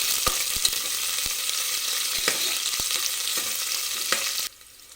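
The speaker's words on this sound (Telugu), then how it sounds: "వీటిని ఆయిల్లో కాస్త ఫ్రై చేసుకోవాలి." Green chillies and onion pieces sizzle steadily in hot oil, a continuous frying hiss with occasional stirring clicks, close and alone, cutting off abruptly near the end.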